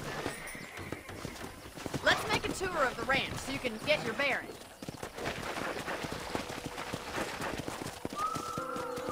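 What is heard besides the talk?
horse hooves clip-clop, from a video game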